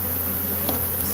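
Honeybees swarm from inside a washer/dryer, a dense continuous buzzing hum, close and steady throughout the short moment.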